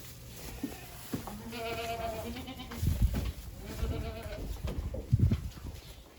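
Goat bleating at milking time on a farm, several wavering harmonic bleats repeating across the stretch, fairly close and clear over low barn noise.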